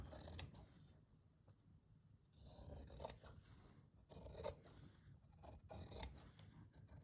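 Scissors snip and slide through fabric while cutting out a printed pattern piece for a scrappy drawstring bag, with close, quiet cuts coming in short irregular bursts and pauses between them.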